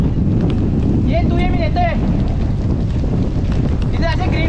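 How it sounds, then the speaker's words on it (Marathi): A storm in Mumbai sends strong wind and heavy rain roaring across a coast with boats, a constant loud buffeting rush with wind hitting the microphone, while a man calls out and speaks over it. "पाऊस बघा डेंजर एकदम जोरात आलाय आणि वारा पण वाढतोय परत."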